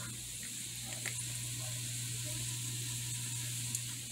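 Lightly salted and peppered vegetables for chicken noodle soup sauté in a pot after about ten minutes of cooking, giving a quiet, even sizzle with a faint hum beneath and a few soft clicks.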